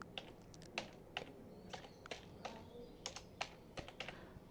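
Quiet, close typing on a computer keyboard: a run of irregular light key taps and clicks with short pauses, alone without talk.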